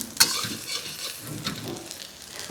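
Thai omelet (khai jiao) sizzling in hot oil in a pan, a bright crackling fry with a sharp scrape of a utensil near the start and softer stirring sounds after.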